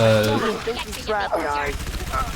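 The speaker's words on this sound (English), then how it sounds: "ODST SMG is actually really good, as you can see" Rapid bursts of ODST SMG fire in the Halo 3: ODST video game crackle loudly and close, mixed with a voice talking over the shooting.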